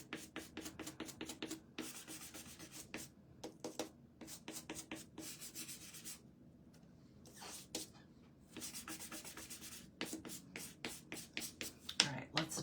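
Close, rhythmic sanding of a DIY bunny egg from a kit, quick scratchy strokes in repeated bursts broken by brief pauses, fairly quiet, with no talking.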